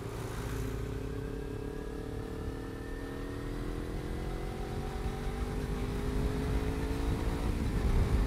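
A motorcycle engine revs near and steady, its droning pitch slowly climbing and growing a little louder toward the end, heard alone without talk.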